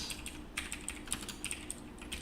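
Fingers type in quick, uneven bursts on a computer keyboard during a game programming session, the key clicks crisp and close in an otherwise quiet room.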